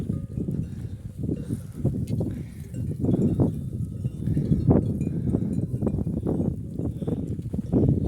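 Sheep grazing on a hillside, their bells clinking irregularly over a low rustle of hooves and grass, close and continuous throughout.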